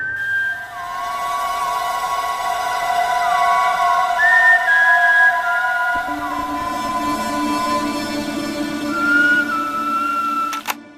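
Someone whistles a song tune, a clear, sustained melody of gliding and held notes carried for several seconds, fairly loud and close with no talking.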